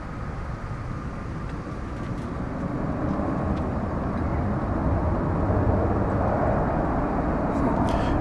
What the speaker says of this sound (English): UPS 763 heading to takeoff with the runway approximately 36 left